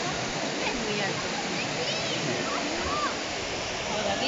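A large waterfall in Brazil roars as a continuous, dense rush of falling water, loud and unbroken throughout, with a voice speaking faintly beneath the din.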